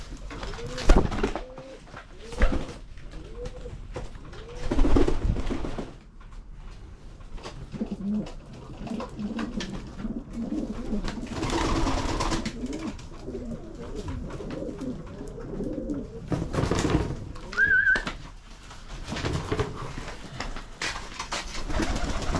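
Damascus pigeons coo steadily in a loft in Berlin, repeated throaty rolling coos from several birds nearby, with brief louder bursts of wing flutter and movement mixed in.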